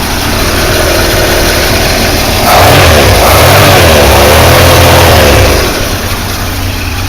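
A Chrysler 318 V8 in a hot rod runs loud and close, idling before rising into a sustained rev for a few seconds and then settling back to idle, with no talking.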